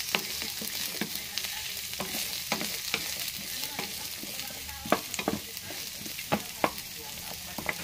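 Cucumber half-cooking in a hot pan, a steady sizzle and frying hiss with repeated sharp scraping stirs of a utensil, close and clear with no talk.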